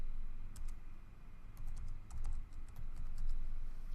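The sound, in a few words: typing a password on a computer keyboard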